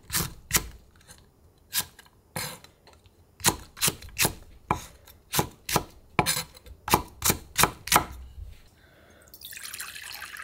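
A knife chops green onion and chili peppers on a cutting board, about fifteen crisp, close thuds in an uneven rhythm. A faint rush like running water follows at the end.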